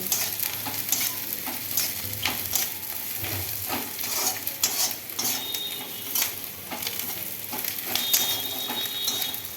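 Onions fry in a pan toward light brown with a continuous close sizzle, mixed with stirring scrapes and irregular crackling bursts, with no voices.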